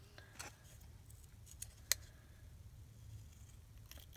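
Scissors snipping paper in slow, careful cuts at a desk, soft close clicks spaced irregularly with one sharper snip in the middle, quiet and alone.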